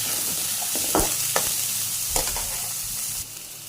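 Capsicum pieces frying in hot oil for a capsicum egg masala, a steady close sizzle broken by a few sharp clacks as a spoon stirs through the pan, with no talking.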